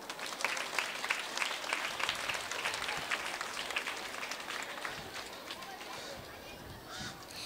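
Audience applauds teachers at a school's cultural days opening ceremony at Sainte Bernadette school, steady broadband clapping from a large crowd sustained throughout, fading slightly toward the end.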